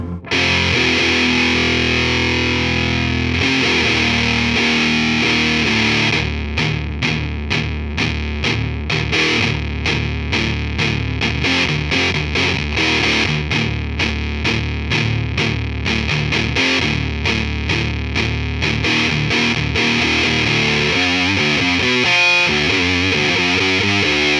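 Dense, saturated electric guitar through an op amp Big Muff fuzz pedal with a bright, harsh, buzzy tone, strummed and picked in rapid rhythmic bursts, loud and continuous throughout with no voices.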